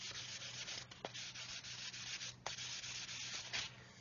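Sanding block rubbed gently along the seam of a Revell 1/144 Apollo Saturn V plastic model, making a soft, continuous scratchy rasp with a few slightly sharper strokes, faint and close.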